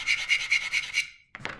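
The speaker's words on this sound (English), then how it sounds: "I think it's gonna need a whole lot of sanding a little bit." Sanding the plastic hull piece of an M3 Stuart light tank scale model, five quick, even rasping strokes close to the microphone, then a brief pause and a final scrape.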